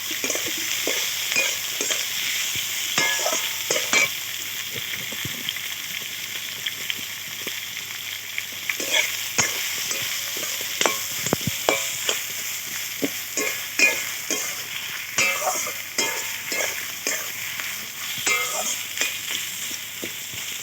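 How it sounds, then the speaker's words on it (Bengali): Chopped onions frying in oil for a village-style chicken curry, with a steady close sizzle and frequent scraping stirs of a spatula throughout. "এখন একটু লাল লাল করে ভেজে নিতে হবে।"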